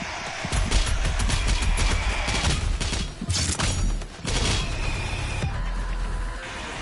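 Gunfire and explosions in the video game DOOM Eternal: loud rapid bursts of shots and heavy booms crowd together, with one short lull partway through and no speech.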